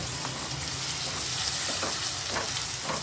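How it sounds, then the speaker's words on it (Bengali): Two medium-sized chopped onions fry in a pan until they brown, a steady, dense sizzle holding evenly throughout with faint scraping stirs underneath and no voices. "এখানে 2টো মিডিয়াম সাইজের পেঁয়াজ আছে, এটাও একটু বাদামি করে ভেজে নেব"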